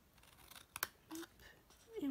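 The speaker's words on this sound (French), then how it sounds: "on va pouvoir venir donc couper le long des lignes de pli pour faire des petits rabats" Scissors cutting printed paper along fold lines to make small flaps for a box lid, heard as a few quiet snips and a soft rustle.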